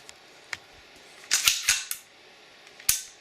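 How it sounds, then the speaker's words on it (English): A Desert Eagle .50 AE pistol in titanium gold finish is reassembled, its barrel slid forward and locked into place with a few sharp, close metallic clicks and clacks in a short cluster. "Lightly push it forward,"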